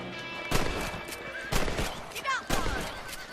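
Three rifle shots ring out about a second apart while hunting rabbits in the Western video game Red Dead Redemption, sharp cracks with short echoing tails, and a horse whinnies faintly near the end.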